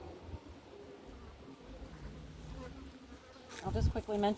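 Honeybees buzz steadily around an open beehive, a low droning hum close by, with a louder rustle or movement near the end.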